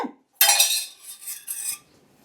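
Metal dishes and cutlery clatter and clink together in a few sharp bursts, close by and fairly loud, then settle quickly. No one speaks.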